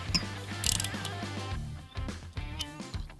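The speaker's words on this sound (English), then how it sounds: "We're just going to tighten this down on the cylinder head just a little bit." Close ratchet clicking in quick bursts as a valve spring tool is snugged down onto a Honda K20 cylinder head, with short pauses between strokes and no talking.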